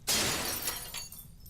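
Glass shatters in a sharp burst, suggesting a windshield breaking in a car crash, then trails off into scattered tinkling debris over about a second and a half.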